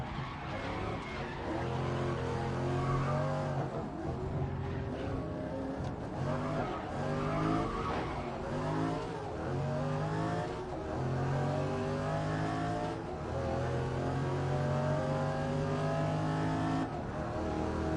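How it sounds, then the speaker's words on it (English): A Camaro races and drifts in Grid Legends, engine roaring through repeated rev rises and gear shifts with tire squeals and skids, loud and continuous for the whole stretch. "This Camaro sounds really nice though."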